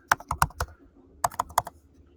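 Quick keystrokes on a computer keyboard as a password is entered, two short bursts of about four taps each separated by a pause, close and clear with no talking.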